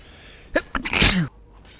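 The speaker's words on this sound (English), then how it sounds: "Sorry for the sneeze there." A single sharp, loud human sneeze close to the microphone, with a quick intake before the burst and quiet room tone around it.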